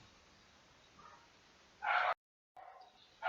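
A dog barks nearby in a quiet room, giving a short, loud burst and then another bark after a brief pause.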